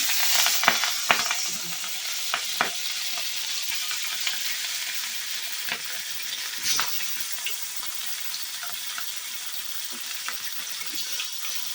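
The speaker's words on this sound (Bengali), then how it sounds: "আর এদিকে এই যে মাছগুলো ভেজে নিই।" Fish sizzles steadily in hot oil in a pan on a home kitchen stove, a continuous loud hiss broken by sharp crackles and pops and a few clinks of a spatula stirring, with no voices.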